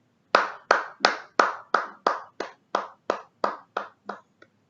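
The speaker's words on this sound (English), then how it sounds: "please give a big hand, a big clapping for Avi Gupta and Tanu Yadav's team." Audience at a school debate on whether celebrities are good role models for students, clapping for a team in a brisk, even rhythm of about a dozen crisp claps that gradually fade, with no voices.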